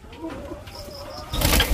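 Doves brooding eggs in a backyard bird farm give soft, close cooing calls. Toward the end a louder burst follows that may be a brief flutter of wings.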